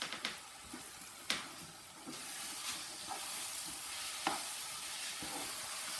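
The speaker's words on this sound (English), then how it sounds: "I'm mixing up the spinach and the egg sauce, the egg and tomatoes." Spinach, egg and tomato sauce frying in a pan, a steady soft sizzle broken by sharp scraping knocks from stirring at irregular moments, without any voices.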